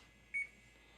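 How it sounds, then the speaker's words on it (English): A single short electronic beep from a kitchen timer being set beside an induction cooktop, clear and close over a quiet room hum. "let's go ahead and put a timer on."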